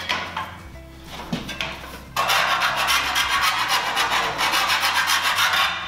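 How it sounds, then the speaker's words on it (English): Rasping scrapes from deburring the cut edge of 4 mm steel cable tray: lighter scraping first, then from about two seconds a steady, loud run of repeated strokes close by, with no talk. "we're not going to remove all the burrs properly"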